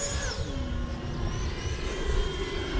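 A Freewing F-22 90mm electric RC jet in a flat spin gives off a continuous whooshing ducted-fan whine with gliding pitch shifts, heard from a moderate distance over outdoor noise.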